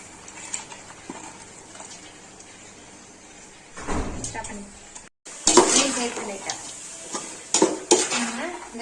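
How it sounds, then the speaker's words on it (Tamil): Chopped vegetables for chicken fried rice are stirred in a hot pan, with sizzling and scraping utensil strokes that grow louder and busier after a brief pause, and occasional metallic clatters. "காய்கறியை நல்லா மிக்ஸ் பண்ணிக்கலாம்"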